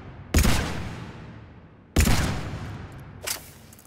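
Three heavy, booming gunshots from a powerful four-round gun in Mass Effect 3 Legendary Edition, spaced well apart, each a sharp loud blast with a fading tail.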